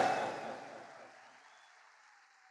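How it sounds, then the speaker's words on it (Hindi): An audience applauds at a public event in Delhi, a dense wash of clapping that starts loud and fades steadily away over a couple of seconds, with no talk over it. "मैं भी ताली बजाना चाहता हूं"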